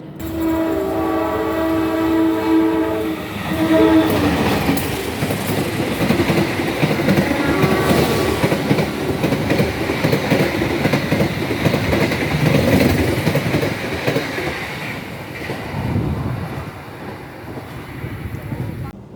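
The Kamandaka passenger train between Cilacap and Semarang, Indonesia, rumbles steadily along the rails after leaving Pemalang station, wheels clattering over joints, with a horn at the start and continuous loud rolling noise.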